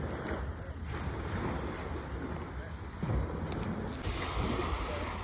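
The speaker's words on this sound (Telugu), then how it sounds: "ఈ వాటర్ సౌండ్ కూడా చాలా బాగుంది." Sea waves wash against the shore near Seattle at sunset, a steady broadband surf roar mixed with wind buffeting the microphone, continuous and fairly close throughout, with no speech.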